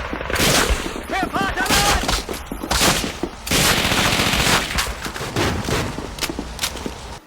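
Rapid automatic gunfire and scattered rifle shots from the World War II shooter Call of Duty: Finest Hour crackle in loud, dense bursts, with overlapping battle noise and brief gaps between volleys.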